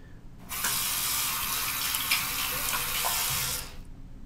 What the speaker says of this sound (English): I'll go ahead and wash my hands.